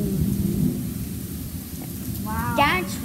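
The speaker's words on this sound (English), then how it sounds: "That's rain." Heavy rain pours steadily in a thunderstorm, with a deep rumble of thunder underneath and a voice speaking briefly near the end.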